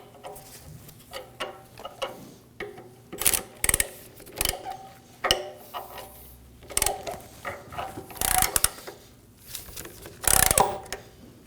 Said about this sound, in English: I'll just be using a 13mm wrench instead of the socket